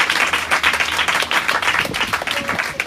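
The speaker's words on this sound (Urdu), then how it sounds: "زور دو تالیاں پاکوں کے لیے." A church congregation claps together during an Urdu-language worship service, producing a dense, steady wash of applause that stays fairly loud and even for about three seconds.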